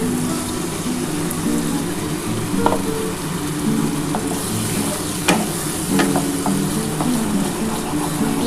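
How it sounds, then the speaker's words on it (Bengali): Spiced masala loosened with spice-soaked water sautéing in oil for a Bengali pomfret curry, giving a steady close sizzle with soft scrapes and stirring clicks throughout, no talking. "ভালো করে কষাতে হবে কিন্তু ভালো করে কষিয়ে নিই"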